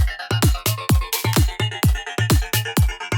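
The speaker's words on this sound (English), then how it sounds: "Or maybe even this formant filter, that could be fun." A drum loop run through a formant filter, its kicks and snares taking on a vowel-like, resonant colouring, with a steady, punchy rhythm of repeated hits and no voices.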